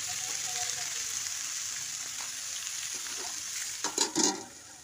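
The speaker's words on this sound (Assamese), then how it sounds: "এতিয়া মই পচলাখিনি দি অলপ লৰাই ল'ম আৰু অলপ সিজিবলৈ দি ঢাকন মাৰি দিছোঁ।" Spice mix sizzling and frying in a pot of lentils, a steady hiss with soft stirring scrapes and a few louder clinks and stirs near the end.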